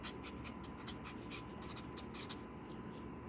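A pen writes an equation on paper, a string of short scratchy strokes in an irregular rhythm, close up and faint, with no voices.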